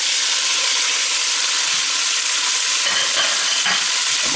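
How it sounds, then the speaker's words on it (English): Beef hitting a hot pan of canola oil gives a loud, steady broadband sizzle that holds evenly throughout, with faint stirring or shifting near the end. "So that pan is hot enough now, so we're going to go ahead and get our beef in there."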